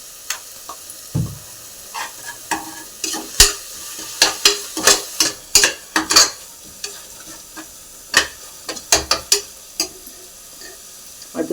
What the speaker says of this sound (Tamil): நல்லா கிளறிக்கலாம்